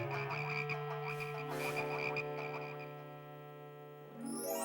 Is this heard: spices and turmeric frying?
no